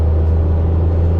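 Tata Altroz petrol hatchback with about 234,000 km on it, heard from inside the cabin as the throttle is pressed, a loud, steady low engine drone and road rumble with no talk.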